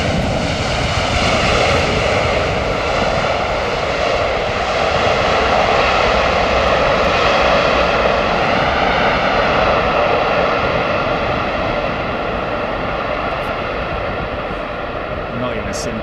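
Steady, continuous roar of Qantas jet aircraft engines, loud and unbroken throughout, with a broad rumbling drone and a faint hiss in heavy rain conditions.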